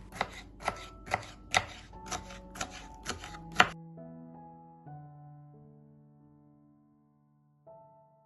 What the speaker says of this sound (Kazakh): болгар бұрышымызды орташа көлемде осылай турап алатын боламыз